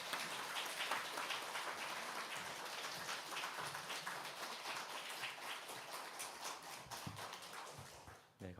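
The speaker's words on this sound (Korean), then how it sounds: "우리 한번 뜨거운 박수로 환영하겠습니다." A church congregation at Sunday worship gives warm, sustained applause with a dense, even crackle of many hands that fades only at the very end.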